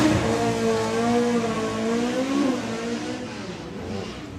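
A normally aspirated flat-four Volkswagen drag car makes a run at Bug Jam, its engine note climbing steadily in pitch as it revs hard, loud at first and slowly fading.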